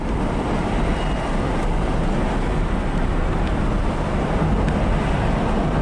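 Car driving on freshly installed coilovers, with one tire reportedly flipped: a steady, loud road and engine rumble with broadband tire noise, continuous and even throughout, no talking.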